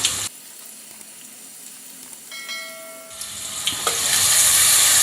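Finely chopped onions hitting a hot pan with bay leaf, a soft background hiss that swells into a loud, bright sizzle in the second half, with a brief metallic ring from the pan.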